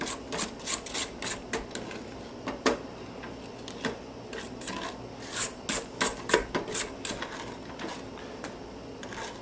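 Spatula scraping chocolate cookie dough from the sides of a mixing bowl, a series of quiet, irregular rasping strokes repeating over several seconds, close up with no talking.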